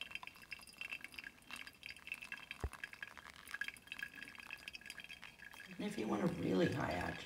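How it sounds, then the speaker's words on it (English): Water poured fairly fast and from high, with strong agitation, over coffee grounds in a flatpack travel pourover filter. A soft, steady liquid stream swells into a louder, fuller splash near the end. "See, I'm adding the water fairly fast, fairly high agitation."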